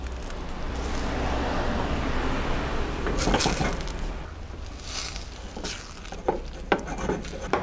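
Sliced mushrooms and basil leaves sizzle in a pan over lowered heat, a steady frying hiss broken by a few sharp utensil scrapes and clinks toward the end.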